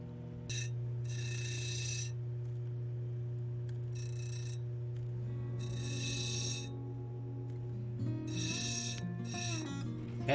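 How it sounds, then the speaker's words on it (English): A lapidary saw blade slices through black opal with a steady, low mechanical drone, while brief bursts of high gritty rasping rise at intervals as the stone meets the blade. "this blade cuts through these stones like they're butter"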